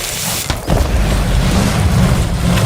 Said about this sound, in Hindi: इस बार धमाका इतना तेज था कि पूरी जमीन कांप उठी।